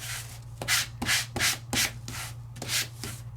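A die-cut craft piece is sanded by hand in about eight brisk, rhythmic rubbing strokes, each a close, gritty scrape over a low steady hum.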